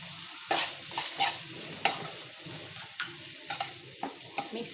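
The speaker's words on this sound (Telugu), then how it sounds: "ఇవన్నీ వేసి బాగా కలిపేయండి" A spoon stirs salt, coriander powder, chilli powder and pepper into vegetable paneer rice in a pan, with repeated scraping strokes over a soft sizzle and no talk.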